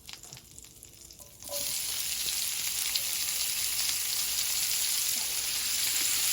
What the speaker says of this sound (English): So let me turn my flame down. We're gonna get our onions in there.